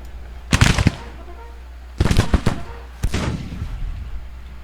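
Cannon and musket volleys in a Civil War strategy video game: three loud bursts of crackling gunfire and artillery booms about a second apart, each trailing into rumbling echo, over a low steady drone.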